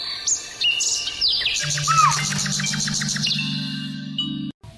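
Cartoon parrot chirps in quick, bright tweets and warbling calls that run together for several seconds, fairly loud and close, over a steady low background tone, with no talking.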